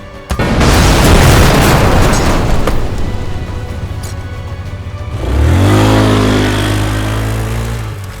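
Explosion effect as a vehicle is shot in a G.I. Joe comic scene: a sudden loud boom with a crackling burst, then a swelling roaring blast that rises again near the end.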